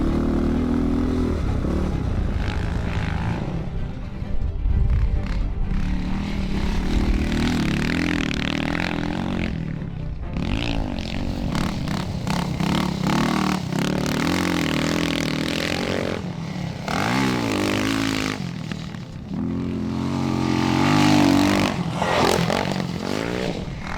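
A rare dirt bike revs hard through laps on a track with no working back brake, its engine loud and close, rising and falling continuously with gear changes and throttle blips for the whole stretch.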